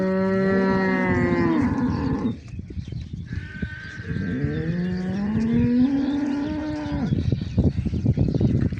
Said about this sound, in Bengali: হাজার হাজার গরু।